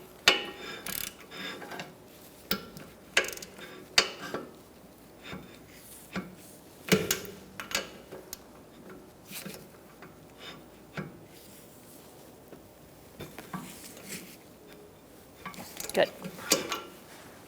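Wheel nuts being snugged onto a 2012-2019 Fiat 500 rear wheel during a brake job, heard as scattered close ratcheting clicks and metallic clanks, with brief talk.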